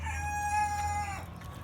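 A single long, tonal crow rings out close by for about a second and then breaks off, from a coop of Indian game chickens, two roosters and three pullets, fed rice.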